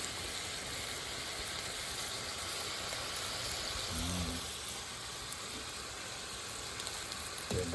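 Ingredients for Filipino papaitan sautéing in a pan, a steady close hiss and crackle of frying that runs unbroken, with a faint clink of utensils near the end.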